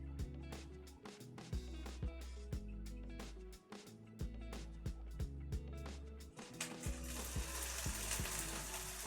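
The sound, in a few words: onions and spinach sizzling in a pan with apple brandy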